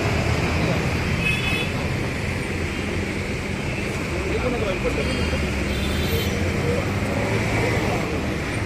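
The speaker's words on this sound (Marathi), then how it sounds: "घोडबंदरला ठाण्याकडून फाउंटनकडे जाणारी वाहतूक पूर्ण खोळंबित झालेली आहे" A traffic jam on Ghodbunder Road after an accident, with a steady dense roar of idling and crawling vehicles and occasional distant car horns sounding over the constant rumble.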